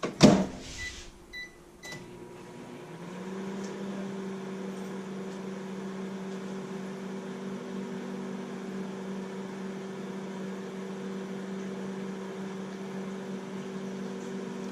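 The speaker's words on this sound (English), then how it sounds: "melt it in the microwave for about 30 seconds" After a short clatter and beep, a microwave oven melting butter runs with a steady low electric hum that drones on unchanged.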